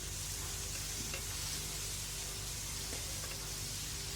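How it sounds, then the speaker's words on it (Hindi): Chicken filling with soy sauce, spices and lemon juice, for spring rolls, fries and is stirred in a pan, giving a steady, close sizzle with a continuous hiss and no talk. "इसको फ्राई करेंगे और अच्छी तरह से इसको मिक्स करेंगे"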